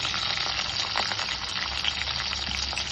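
Green chillies, curry leaves and onion fry in hot oil for ragi upma, a dense, steady sizzle close by with light stirring scrapes, and no voices.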